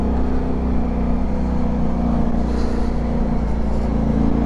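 QJ SRT 600 motorcycle engine running steadily and loud during a test ride, a constant low rumble with slight rising revs and road noise throughout.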